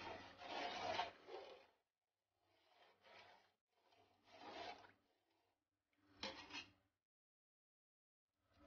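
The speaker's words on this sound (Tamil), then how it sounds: "தண்ணி ஊற்றிட்டு ஒரு கிளறு கிளறிக்கலாம்." Rice and water are stirred in a pot of mutton biryani, a few separate bursts of wet scraping and swishing close by, with short quiet gaps between strokes.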